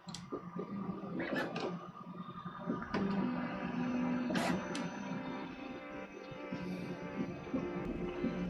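A Flashforge Creator 5 tool-changer 3D printer prints TPU with soft whirring stepper tones, faint ticks and short mechanical chirps, steady and close at low level throughout.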